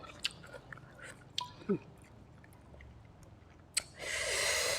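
Someone chews green mango eaten with a spicy dipping sauce, with close, wet, crunchy bites, a brief breathy sound, then a rushing noise at the end.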